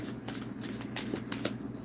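Tarot cards riffle and slap together in a quick run of crisp shuffles, several short bursts close to the listener over a steady low room hum.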